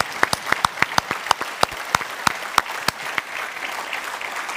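Sparse, distinct handclaps from a small group, loud and close at first, gradually thinning into scattered claps.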